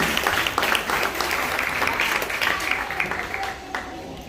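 An audience applauds at a nursery school end-of-year show in 2023, a dense, steady patter of clapping filling the room for a few seconds, with some voices mixed in.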